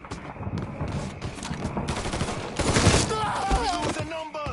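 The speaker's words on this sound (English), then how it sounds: "Shooting that fool!" Loud, dense gunshots from Mafia 3 gameplay fire over a busy, noisy mix of game sound throughout.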